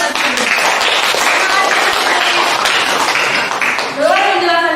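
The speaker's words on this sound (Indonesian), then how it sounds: "beri tepuk tangan buat Asri" Classroom applause for a student after her presentation, a short burst of brisk clapping from a group of classmates, close and fairly loud, with voices talking over it toward the end.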